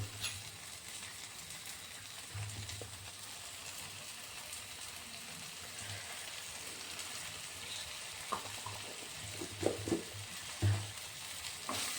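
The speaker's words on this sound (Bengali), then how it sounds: "এটা দিয়েও একটু নেড়ে চেড়ে নেব, মিশিয়ে নিচ্ছি" Pasta in homemade tomato sauce being stirred in a pan, giving a quiet, continuous soft sizzle with faint scraping and a few light clicks of the spoon, no voices.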